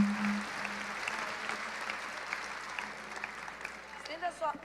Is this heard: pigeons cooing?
no